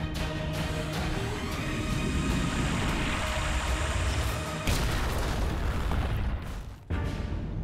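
Torpedo explosions sinking a Japanese destroyer escort in the Pacific War, heard as a loud, sustained rumbling boom that keeps rolling before a sharp break.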